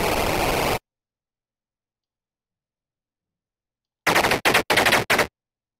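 Enemy tank gunfire in the tank video game Armoured Commander: one sustained burst of fire, then after a long silence a rapid string of four or five loud, sharp shots, with no talk.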